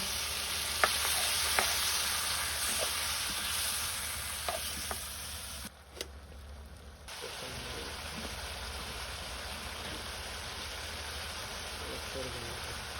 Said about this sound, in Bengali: মরিচের গুঁড়া, জল দিয়ে কষা নিব।